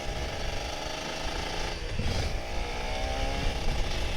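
Kawasaki Ninja RR 150 two-stroke motorcycle, an all-original 2012 bike, revving hard at high RPM with a loud, buzzy, raspy engine note that holds steady and swells through a brief dip and rise, close by with no talking.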